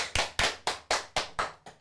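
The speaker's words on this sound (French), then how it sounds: "Vous pouvez l'applaudir, non?" A small group of primary school children claps for a classmate after a performance in class, seven sharp, evenly spaced claps in unison, close and fairly quiet with a slight fade at the end.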